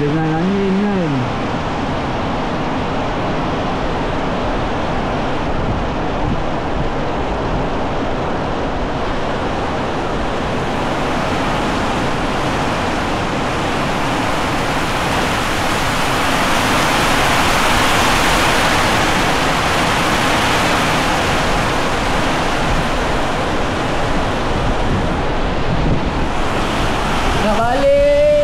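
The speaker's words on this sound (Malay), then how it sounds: "Hujan lebat gila." Heavy rain with strong wind outside at night, a loud, dense, continuous roar of downpour and gusts across the whole stretch, with no talk.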